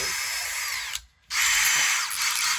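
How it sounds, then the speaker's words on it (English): A power drill whines steadily into the side of a wooden micro cruiser boat, stops briefly for a moment, then starts up again and keeps drilling, loud and close. "Before I drill a hole in the side of this boat"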